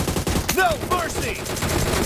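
Gunfire from the mobile battle royale game PUBG Mobile crackles in a dense, rapid burst of shots, layered with busy game effects throughout the short stretch.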